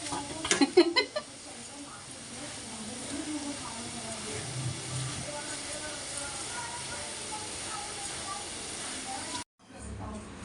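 Semai vermicelli frying and being stirred in a pan makes a steady, close sizzling hiss, with clattering scrapes near the start. Voices are faintly present, and the sound cuts off abruptly at the end.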